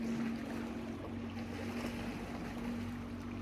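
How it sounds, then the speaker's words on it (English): Waves lapping on Lake Winnipesaukee in New Hampshire, a steady soft wash of water with a faint low hum running through it and no voices. "just listen to these beautiful waves"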